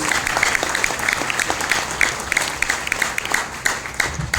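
Audience applause at an RCM seminar in Jamui, Bihar: a steady wash of many hands clapping, with sharper individual claps standing out. The crowd sounds close and fairly loud, with no voice on top.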